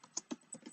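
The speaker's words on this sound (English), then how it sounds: "I'm going to type in npm" A handful of quiet, separate keystrokes tapped on a computer keyboard, soft and close with small gaps between the clicks.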